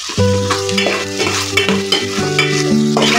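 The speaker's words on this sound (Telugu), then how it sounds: "ఆలోపు మనము కొన్ని పల్లీలు ఇలా వేయించుకోవాలి" Peanuts frying in a pan and being stirred, with a steady crackling sizzle and scraping strokes under background music, close and fairly loud throughout.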